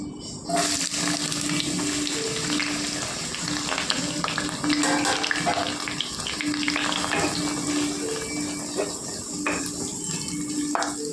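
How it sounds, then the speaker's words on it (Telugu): Onions and green chillies fry in hot oil, giving a steady, dense crackling sizzle with soft wet spatter that runs close and even throughout, with no voices. "2 ఉల్లిపాయలు అండి, ఒక 5 పచ్చిమిర్చి అండి వేసుకుందామండి నూనెలోకి"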